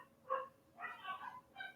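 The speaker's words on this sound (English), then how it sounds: "There goes my dogs." Faint, distant dog barks and yips come in three short bursts, heard alone without talk.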